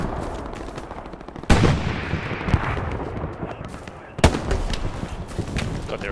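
Grenade blasts during a Hell Let Loose match: two sharp, loud explosions a few seconds apart rise over constant distant gunfire and battlefield rumble, with faint voices in the mix.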